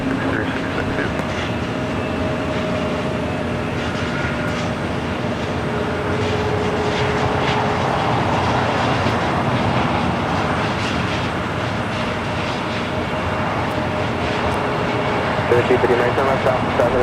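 A Boeing 777 cargo freighter taxiing at LAX produces a steady, loud jet-engine rumble and whine that holds constant, with a voice talking over it.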